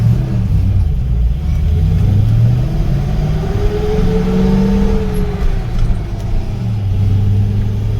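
An LS-swapped Chevrolet squarebody truck accelerates onto a freeway, its engine a steady, loud low rumble that swells gradually over eight seconds with road noise and no talking.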